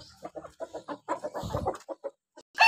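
Chickens cluck in quick, close bursts, a steady run of short calls from the flock gathering near the feeder, ending with a louder squawk.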